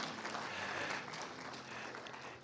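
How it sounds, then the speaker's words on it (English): Soft, steady applause from a congregation at a Sunday church service honoring women, a continuous patter of many hands heard from a distance at low volume. "give a round of applause to all of our fabulous women"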